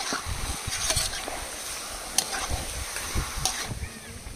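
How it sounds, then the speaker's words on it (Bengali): Chicken pieces for biryani are stir-fried in a pan, giving a soft sizzle broken by irregular scraping and stirring strokes, fairly quiet and close. "এবার মাংসগুলো অনেকক্ষণ ধরে রান্না করে নেব, ভালোভাবে কষিয়ে কষিয়ে"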